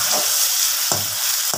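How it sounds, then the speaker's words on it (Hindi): Garlic-ginger paste frying with onions in a pan, a loud close continuous sizzle broken by two scraping stirs, no talk. "अब इसके अंदर जो है हम अपना लहसुन अदरक का पेस्ट शामिल कर देंगे, और इसे भी एक दो मिनट के लिए फ्राई करेंगे"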